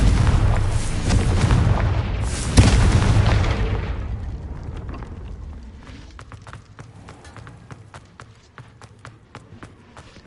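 A Confringo explosion spell in a Harry Potter video game lands with a loud, heavy boom that rumbles and slowly fades, followed by lighter scattered clicks and footsteps.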